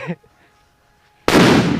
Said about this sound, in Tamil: சிவகாசியோட இந்த சிலிண்டர் பாம்பு வந்து போட போகிறோம்